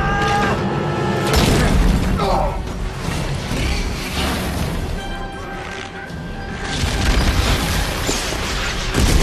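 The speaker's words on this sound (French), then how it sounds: "Boum! Une explosion." A loud explosion booms in the sci-fi game Dead Space 3, with crashing, rumbling impacts and debris that stay dense and heavy through the whole stretch, and a voice talking over part of it.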